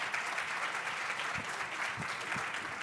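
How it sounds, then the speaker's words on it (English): An audience at a real estate business keynote claps steadily, a dense wash of applause that fills the room from start to finish. "Give him a big round of applause."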